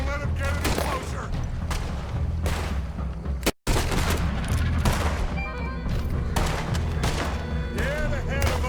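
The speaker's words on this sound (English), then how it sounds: "Put every bullet you got in him!" Red Dead Redemption 2 shootout with rapid overlapping gunshots and volleys, loud and sustained, cut by a momentary dropout midway, while voices shout over the fire.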